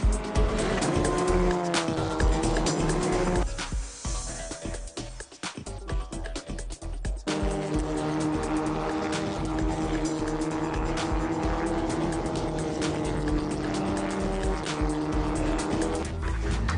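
Volkswagen Ameo Cup race cars roar past on a circuit, engines loud and droning with squealing tires and skids, one brief quieter gap midway before the racing noise returns at full strength.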